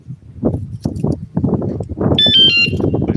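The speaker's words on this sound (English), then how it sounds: "At least the alarm works." An alarm sounds in short, bright electronic beeps for about half a second, over a continuous rumbling, thumping background.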